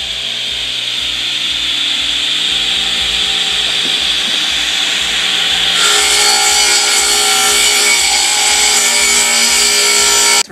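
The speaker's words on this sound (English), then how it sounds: "And the blade is locked in place here. We're gonna lower it into it while it's running." A power saw blade cuts into a wine barrel stave, running steadily as it is lowered into the wood, with a sustained loud whine and rasp that grows harsher and louder partway through the cut, alone without voices.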